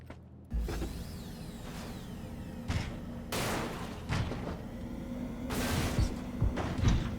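Several bursts of PUBG gunfire break out at intervals over a steady mechanical background hum, with sharp cracks and short volleys.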